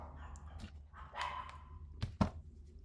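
Dogs bark and whimper, a few sharp barks and a drawn-out whine close by, then two quick loud barks near the end, over a low background hum and without talk.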